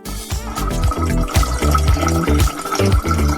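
Soda spilling and splashing out of a shaken container, a continuous loud wet gush with irregular splashy bursts, close and steady throughout, with no voices.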